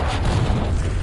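A continuous loud, rumbling boom from a rocket launcher blast in a first-person shooter game, filling the whole moment with dense low roar and no speech on top.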